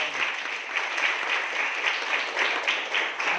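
A crowd at a college karate training event applauds in a warm welcome, a steady wash of many hands clapping together at moderate volume, close and continuous with no pauses.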